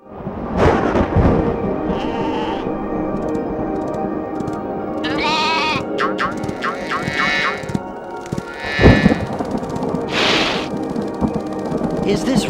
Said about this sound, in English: Is this rain ever gonna stop?